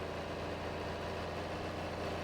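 A John Deere 4020 tractor on dual wheels all around idles in Farming Simulator 22, giving a steady, continuous low diesel rumble at even loudness with no talk over it.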